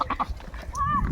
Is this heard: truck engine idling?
no